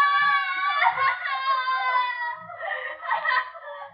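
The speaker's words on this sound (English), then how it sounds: "Oh, they scream because they remember things." People in an asylum scream and wail in long, rising cries, a second voice answering after a short pause, loud and close with a moaning, sobbing edge.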